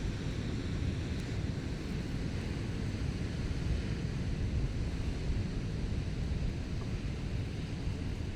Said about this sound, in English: I think it's too windy to stop anywhere out here.